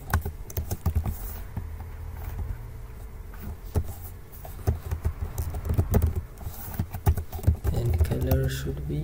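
Typing code on a computer keyboard, with steady key taps running under a loud, continuous background hum and a speaking voice.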